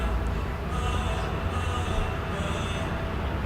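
A freight train rumbles steadily past with a broad, continuous roar and faint high-pitched wheel squeal rising now and then.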